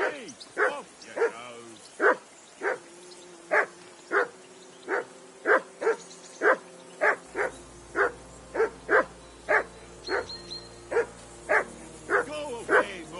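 Dog barking in Kingdom Come: Deliverance II: a steady run of about twenty sharp, evenly spaced barks close by, continuing at a regular rhythm throughout.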